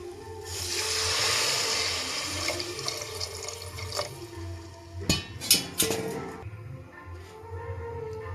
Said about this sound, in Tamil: தேவையான அளவு தண்ணி சேர்த்துடலாம்.